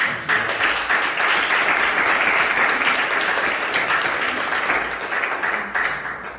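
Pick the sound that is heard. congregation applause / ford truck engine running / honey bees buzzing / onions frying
congregation applause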